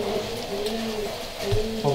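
Breeding-loft pigeons coo in low, rolling murmurs, several birds overlapping in a steady close background with a soft hum underneath.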